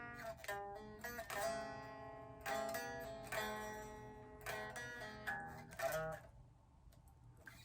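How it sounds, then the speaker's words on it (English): An electric guitar plugged straight into an iPhone plays a series of chords and single notes with pauses between phrases, quiet and dry, with no talking. "Let's just play the guitar straight into this iPhone"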